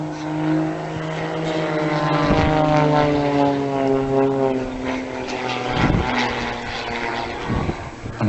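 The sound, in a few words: aerobatic propeller plane hovering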